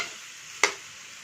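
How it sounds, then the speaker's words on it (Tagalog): Pork belly frying in its rendered fat in a plain, non-stick-free pan gives a soft, steady sizzle, broken once by a short scrape as the meat is stirred. "Halo-haloin lang po natin para hindi dumikit yung karne sa kawali."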